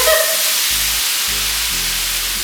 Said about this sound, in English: Give me that sizzle.